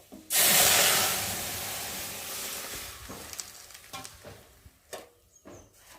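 Dal poured into a hot pan of fried garlic bursts into a loud sizzle and hiss that slowly fades, followed by quieter bubbling and a few clinks of stirring.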